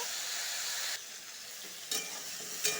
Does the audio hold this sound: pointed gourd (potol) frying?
yes